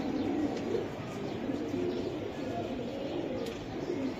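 Black Giribaj racer pigeons coo in a low, continuous murmur throughout, steady and fairly close, with no clear talk over it.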